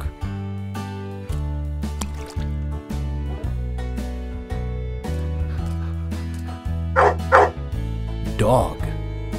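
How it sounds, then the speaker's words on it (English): A dog gives a few short barks near the end, sounding out over a steady musical backing. "Dog."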